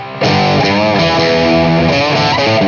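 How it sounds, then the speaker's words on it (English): Electric guitar played through a modded overdrive pedal with gain full up, a fairly distorted, thick tone with sustained chords and a few quick note changes, loud and alone. "you'll hear it's a fairly distorted sound."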